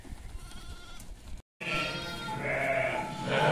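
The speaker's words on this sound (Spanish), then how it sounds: "pues ahí hay una oveja" Sheep bleating on a farm where lambs are being born, a drawn-out nasal bleat rising after a brief silence, close and fairly loud over rustling and background farm noise, with no talk.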